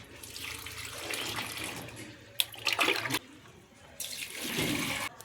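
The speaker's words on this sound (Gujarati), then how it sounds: "જો બધાય કુંડામાં પાણી નાખી દીધું છે" Water pours and splashes into plant pots in uneven bursts, stopping and starting again, close by with no voices.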